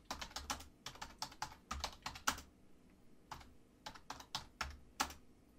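Someone types on a computer keyboard in quick bursts of key clicks, with a short pause midway, close and distinct over a faint room hum.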